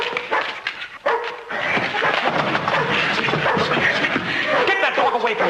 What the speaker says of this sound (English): Get that dog away from me.